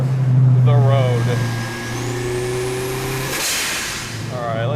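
Street-legal big-turbo Honda Civic hatchback under way, a loud steady engine drone with rising whine and a sharp whoosh of boost release near the end, heard from inside the car while someone talks over it.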